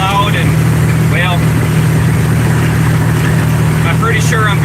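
Loud semi truck engine droning steadily while driving loaded through city traffic, a constant low rumble close by with no pauses, under faint bits of voice.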